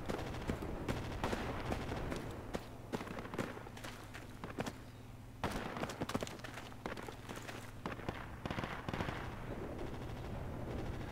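Rapid bursts of heavy automatic fire from a quad gun in Project Reality, loud sharp repeated cracks in irregular clusters over a steady rumbling engine drone.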